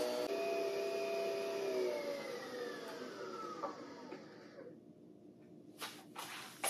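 A Nespresso machine brews Sweet Vanilla Barista Creations coffee with a loud pumping whir that fades out. Faint clicks and hiss follow near the end.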